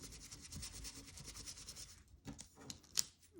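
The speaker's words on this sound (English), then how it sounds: "I'm rubbing it off, and then I'm rubbing on." Gilding paste is rubbed on and off a crafted surface by hand, giving a soft, steady close-up scratching and rubbing that fades after about two seconds into a few light scrapes.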